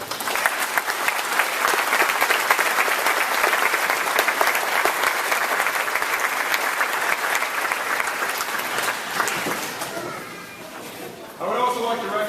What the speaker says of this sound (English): How about a nice round of applause for our recognized seniors?